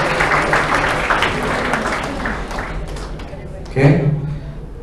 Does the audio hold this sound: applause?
yes